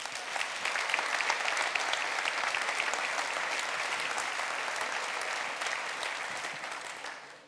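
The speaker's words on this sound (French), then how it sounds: "Mesdames et messieurs, je pense qu'on peut leur donner une belle main d'applaudissements." Steady, dense applause from a large audience at a mayor's summer dinner event, sustained at an even level throughout and tapering slightly at the end.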